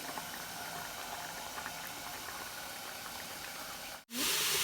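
Okra curry bubbling steadily in a covered pot on a Kerala home stove, a continuous close hiss and simmer throughout, ending in a brief gap and then a louder burst of hiss.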